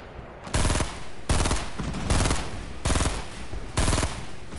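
Video game gunfire rings out in five loud, evenly spaced automatic bursts, each a rapid rattle of shots over a steady background din, with no talking.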